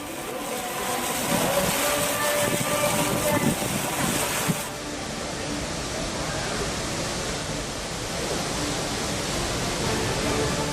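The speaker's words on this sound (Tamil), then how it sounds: "மால்வாடி குண்டா கபில தீர்த்தம் அருவிகளில் ஆர்ப்பரித்த வெள்ளம்." Floodwater after heavy rain roars over the Malwadi Gundam and Kapila Theertham waterfalls near Tirupati Tirumala, a loud, unbroken rushing roar that shifts slightly in tone midway as the view changes.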